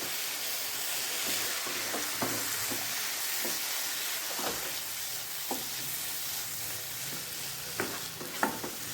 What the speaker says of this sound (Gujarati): આપણે જે મસાલો તૈયાર કર્યો હતો તે ઉમેરી દઈશું અને મિક્સ કરીને અને થોડીક વાર માટે સાતળી લેશું